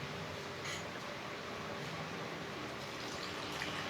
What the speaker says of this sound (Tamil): கலந்ததுக்கப்புறமா இதில் கொஞ்சமாக தண்ணி சேர்க்குறேன்